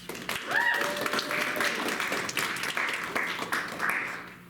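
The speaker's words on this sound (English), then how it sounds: "One more applause." An audience claps in a broad, steady patter of applause, moderately loud and sustained for several seconds.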